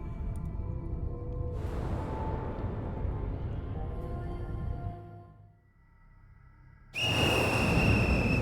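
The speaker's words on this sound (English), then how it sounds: "As the monstrous little raincoat visitor blows his whistle, he steps back into the shadowy darkness." In GhostWire: Tokyo, a small raincoat-clad monster blows a whistle, a shrill sustained tone cutting in loudly near the end over a dense rumbling game ambience.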